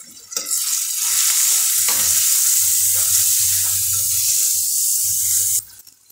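Turmeric, salt and chili powder sizzle steadily in hot oil in a pan while being stirred, a continuous close frying hiss with low scraping strokes that fades out at the end.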